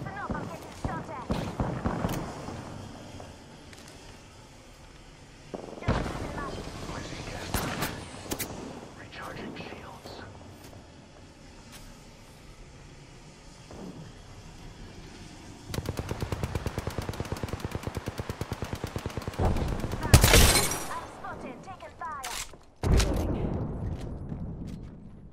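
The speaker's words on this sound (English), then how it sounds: "Listen up, I'm getting shot at." Bursts of automatic gunfire from the video game Apex Legends rattle in irregular volleys, some distant and some close, with a loud sustained spray late on, mixed with quiet talk and game voice lines.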